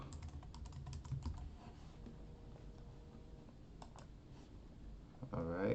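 Rapid clicking of fingers typing on a computer keyboard, a steady run of close keystrokes with a brief pause before a final burst.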